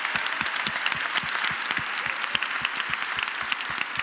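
An audience at a Christmas event gives loud, sustained applause, with some distinct individual claps standing out in a steady rhythm.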